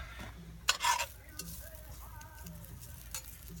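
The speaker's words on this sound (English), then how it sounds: "So kind of stir those up" Sweet potatoes are stirred in a cast-iron Dutch oven outdoors, giving a short burst of scraping and soft sizzling near the start, then a quieter low crackle with faint clinks over steady outdoor background.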